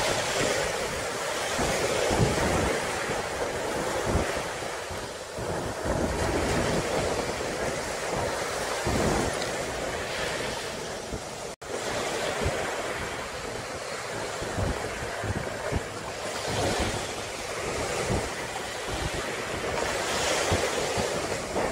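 Ocean surf at Pantai Dadapan beach in Wonogiri rolls in steadily as a continuous wash of breaking waves heard from a hilltop, with wind buffeting the microphone and no voices.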